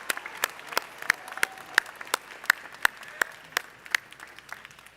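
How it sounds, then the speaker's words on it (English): Sparse, crisp claps ring out at a police officer graduation ceremony, irregular sharp hand claps from a crowd with faint voices underneath. "give him another round of applause"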